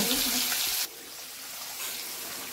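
Rice being washed in water in a home kitchen, with a loud splashing rush of water that drops off suddenly and gives way to quieter trickling and sloshing, close by.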